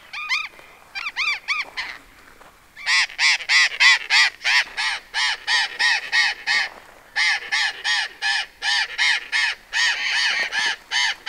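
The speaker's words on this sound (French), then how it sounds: "Alors, je parle pas perroquet, mais je pense qu'ils ont capté que j'étais là. Ça piaille." Loud, harsh squawks from a flock of parrots in Argentina, coming close in rapid repeated bursts, a short cluster and then a long run of steady calls.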